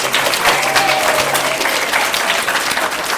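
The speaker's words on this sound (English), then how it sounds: "So let's celebrate and applaud them." Audience applause at a school capstone presentation, a loud continuous patter of many hands clapping indoors, steady for the whole stretch with no talking over it.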